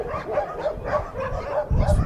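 Many dogs at a large animal shelter housing over a thousand animals bark and yip in a dense, continuous chorus, with a louder burst near the end and no clear talk.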